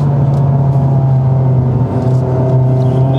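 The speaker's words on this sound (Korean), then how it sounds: "코너 탈출하시면서 악셀 쭉 밟아보시고, 한번 느껴보시고요" A Hyundai Avante N accelerates hard out of a corner at Inje race circuit, its engine sounding a loud, steady, droning hum close by, with small fluctuations and no talking.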